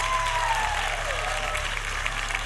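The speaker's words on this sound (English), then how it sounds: "Please give a big round of applause." Steady, dense applause from an audience at a Rainbow Six Siege reveal panel, a broad wash of clapping that holds throughout at moderate distance.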